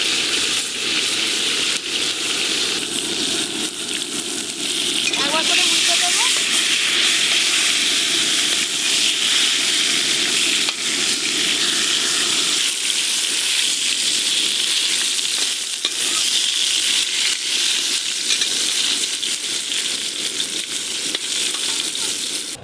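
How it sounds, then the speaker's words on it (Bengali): Brinjal slices fry on a gas stove over a strong flame, giving a loud, steady sizzle and hiss that runs throughout, with a brief spoken comment near the middle. "গ্যাসে করছি তো একটু জোরে জাল দিলেই বেগুন ভাজা হয়ে যায়।"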